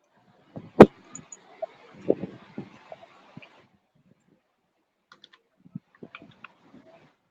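Sparse, irregular key clicks from a computer keyboard while someone types text into a business page in a digital marketing class, close and fairly quiet, with short bursts separated by pauses.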